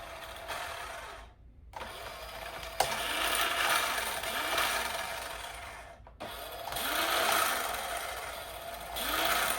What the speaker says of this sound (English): Very strong sounding little motor in there.